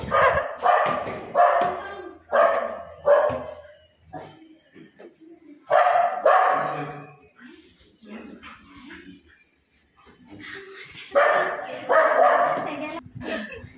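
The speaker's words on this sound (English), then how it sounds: "Look how Simba is barking." A dog barks close by in several loud bursts, a few quick barks at a time, with whimpers and some talking between the bursts.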